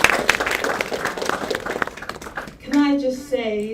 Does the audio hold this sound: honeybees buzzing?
no